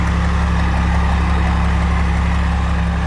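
A 12-valve Cummins diesel engine idles steadily and close by, a deep, even low rumble with a faint mechanical clatter and no other sounds.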